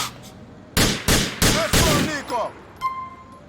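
Gunfire in the video game GTA 4: four loud, heavy shots in quick succession, then fainter reports and clatter trailing off, with a little muffled voice underneath.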